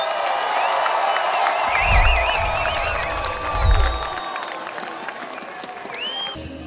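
Arena crowd at a cage-fighting event at River Center roaring, cheering and clapping, a sustained loud crowd wash with whistles and two deep swells, under an announcer's amplified voice.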